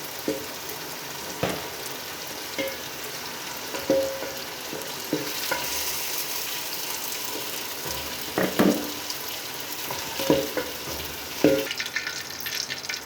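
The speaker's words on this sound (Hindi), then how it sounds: "अब हम इसी घी में प्याज डालते हैं।" Chopped onions fry in hot ghee for a masala base, giving a steady, close sizzle with scattered stirring clatters and clinks from a spoon against the pan and no talking.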